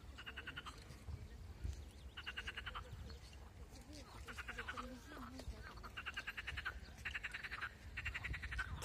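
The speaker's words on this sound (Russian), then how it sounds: "Жаба орёт." Toads croak in repeated rapid pulsing bursts in a park, a chorus of several callers at moderate distance with bleating-like calls mixed in, continuing steadily over low background noise.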